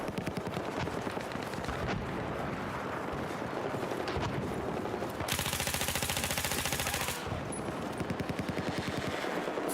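Rapid gunfire from an M82 semi-automatic .50 caliber rifle in a video game, a dense run of sharp shots through most of the stretch with a sustained loud burst in the middle, no talking.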